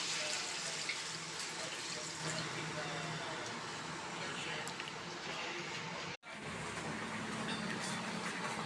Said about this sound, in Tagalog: lalagyan natin ng isang basong tubig